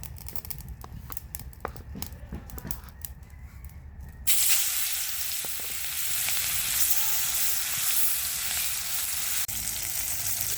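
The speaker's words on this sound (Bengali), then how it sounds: "এখন মাছ ভেজে নিব" Pangas fish frying in hot oil in a pan over a clay stove. Quieter background clatter gives way to a steady, loud, bright sizzle that lasts for the rest of the clip.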